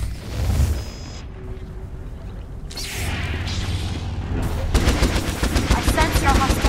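Droids unleash blaster fire in a Star Wars: The Old Republic battle on Taris, with rapid dense volleys building into a continuous barrage alongside booms and mechanical clatter.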